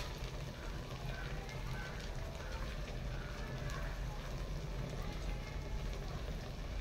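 Battered hilsa fish cutlets fry in hot oil, a steady close crackle and sizzle that continues throughout with faint speech mixed in.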